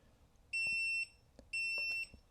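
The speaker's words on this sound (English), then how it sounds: "it'll also give you that double beep" A Viofo BP100 dashcam battery pack gives two high electronic beeps close together when manually switched back on, each about half a second long, with faint handling noise around them.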